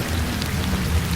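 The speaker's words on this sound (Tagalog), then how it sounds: "ang lakas ng ulan!" Heavy rain pours down hard in a dense, steady roar of drops striking surfaces, loud and close throughout with no voices.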